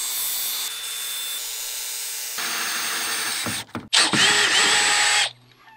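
A power drill bores a hole for a grounding cable bolt on a shipping container, a loud close whine that shifts pitch as it bites in, briefly stalls, then spins up again before stopping.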